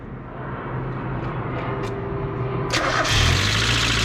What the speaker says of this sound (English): Dang, it starts right up.